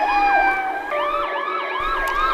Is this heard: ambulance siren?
yes